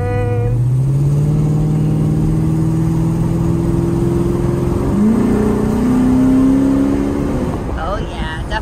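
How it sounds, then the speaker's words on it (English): A 2007 Dodge Magnum pulls hard through its gears, the engine note climbing and dropping at each shift, loud and close from inside the car. "let it go through the gears one more time"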